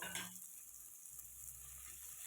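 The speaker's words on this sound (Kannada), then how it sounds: "ಅದನ್ನು ಸೇರಿಸ್ಕೊಂಡು ನೀಟಾಗಿ ಫ್ರೈ ಮಾಡ್ಕೊಳ್ಳಿ ಟೊಮೊಟೊ ಮೆತ್ತಿಗೆ ಅದು ಬೆಂದಿರಬೇಕು" Tomatoes fry in a pan for a radish sambar, giving a steady, soft sizzle that holds evenly throughout at a modest level with no voices.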